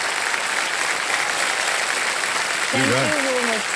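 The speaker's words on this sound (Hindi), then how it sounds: "ताली बजा दीजिए मीनाक्षी जी के लिए।" A studio audience claps steadily for a quiz show contestant, a dense continuous wash of applause, while a host's voice briefly speaks over it near the end.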